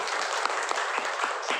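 A short, dense patter of audience clapping at a sales presentation, fairly close and steady throughout, with no talking over it.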